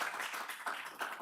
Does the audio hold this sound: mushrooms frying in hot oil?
no